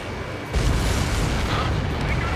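An enemy transport is destroyed in a combat flight game, setting off a sudden heavy boom followed by a dense, rumbling blast that continues steadily to the end.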